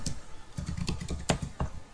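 Quick typing on a computer keyboard while filling in a registration form, a fast irregular run of close, crisp key clicks with no voice over them.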